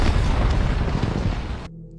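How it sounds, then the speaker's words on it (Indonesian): A dramatized building explosion from The Last of Us series: a loud, dense roaring blast that rumbles steadily for under two seconds and then cuts off sharply into near silence. "Para zombie yang masuk ke gedung meledak bersama Tess di dalamnya."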